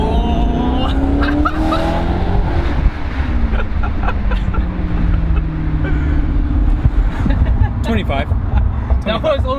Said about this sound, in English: that Italian V8